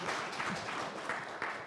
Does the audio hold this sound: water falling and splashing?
no